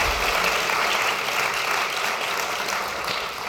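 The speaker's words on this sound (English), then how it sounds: "Are those applause for you or both of us?" Audience applause at a panel talk, a thick, sustained wash of clapping from a large crowd, loud and even from start to finish with no voices over it.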